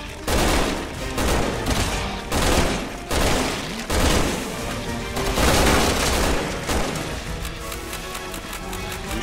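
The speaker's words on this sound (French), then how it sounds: "C'est moi où je lui ai tiré tellement fort qu'elle s'est retrouvée au plafond." Loud, repeated gunfire bursts in the video game Resident Evil 6, rapid volleys with booming impacts arriving in several clusters and short gaps between them.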